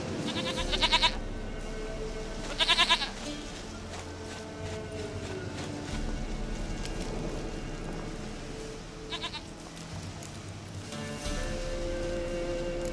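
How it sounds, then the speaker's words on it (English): A goat in The Witcher 3: Wild Hunt gives several short quavering bleats, two close together early on and another later, heard plainly over a continuous low in-game ambience with faint movement sounds. "Goat of mine, dearest,"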